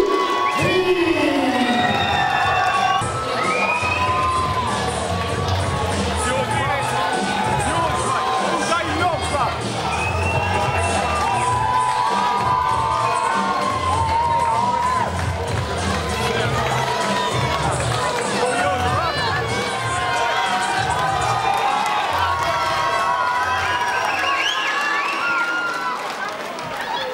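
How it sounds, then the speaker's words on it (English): Crowd at a fight event cheering and shouting for a fighter entering from the blue corner, a dense, continuous roar of voices with some clapping. It holds steady and loud throughout, with an announcer's voice faintly under it. "Let's go, big round of applause for Tommy"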